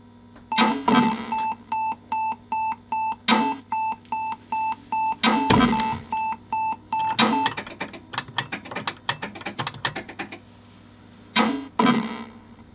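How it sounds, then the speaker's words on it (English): Alarm beeper on a Sega Mega Tech arcade unit running Tetris: regular electronic beeps pulse in repeated bursts, fairly loud and alone, followed by a rapid run of sharp mechanical clicks and clunks from the coin counter. "There's actually a beeper which comes on, and then it also flashes the screen in a disturbing fashion as well,"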